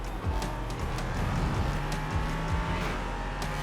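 Race car at speed on the Road America circuit, a loud sustained engine roar dropping through downshifts and braking into a corner, with brief tire squeal over the continuous drone.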